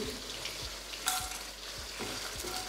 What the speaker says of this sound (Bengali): এবার এই সব কিছুকে আমি ফ্রাইং প্যানের মধ্যে দিয়ে দিচ্ছি।